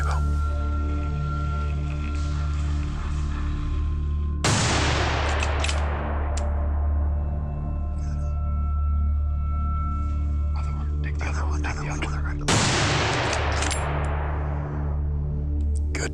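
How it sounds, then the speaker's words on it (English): Two rifle shots during a wild boar hunt outdoors, each a loud, sudden crack with a long rolling decay, spaced about eight seconds apart over steady low background rumble. "Good shooting, sir."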